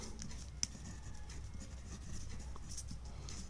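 A pen scratches faintly across a practice question paper, soft continuous writing strokes with a couple of small taps, close by in a quiet room.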